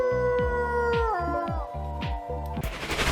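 A wolfdog's long, mournful wolf-like howl slides downward in pitch over a steady rhythmic background beat, ending in a burst of noise.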